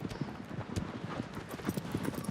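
A horse's hooves clip-clop in Shadow of the Colossus in a steady, fairly quick rhythm of close, distinct hoofbeats, with no talk over them.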